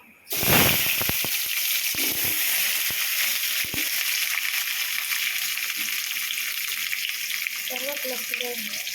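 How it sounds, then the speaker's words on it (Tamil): Onions and curry leaves hit hot oil for a chicken thokku: a loud sudden sizzle burst that settles into a steady close-up frying hiss with scattered crackles, and a voice briefly heard near the end. "ஆனியன் கருவேப்பிலை சேர்த்துக்கிட்டாச்சு."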